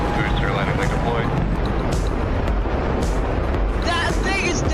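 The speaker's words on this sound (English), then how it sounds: "That sonic boom was great for us." A New Shepard rocket booster on its landing descent sends a sonic boom and heavy rumbling roar across the launch site, loud and sustained with broadband noise, while a crowd shouts and talks over it.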